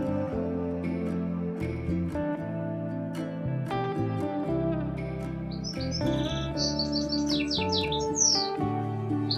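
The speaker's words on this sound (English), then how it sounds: "Robin. Robin means robin पक्षी." A robin's song, bright high chirps and trills clustered in the second half, layered over steady instrumental background music.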